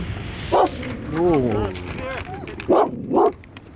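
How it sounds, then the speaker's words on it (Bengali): A dog on Bray Beach gives a few loud, close barks, one near the start and two in quick succession toward the end, with a longer whimpering, whining stretch between them. "সুন্দর একটি ডগ।"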